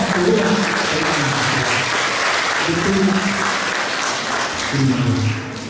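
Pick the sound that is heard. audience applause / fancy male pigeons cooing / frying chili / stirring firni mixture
audience applause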